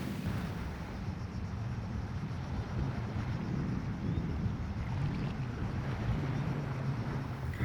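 A sailboat heads up the coast off Sabah, Borneo, in wind coming off the mountains, giving a steady, loud rush of wind and water noise that runs unbroken throughout with no voices.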